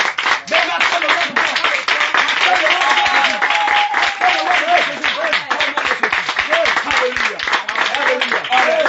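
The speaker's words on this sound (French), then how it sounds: "Acclame le Seigneur Jésus" Church congregation at a worship service in Korhogo clapping and cheering, a dense continuous wash of applause mixed with voices and singing throughout.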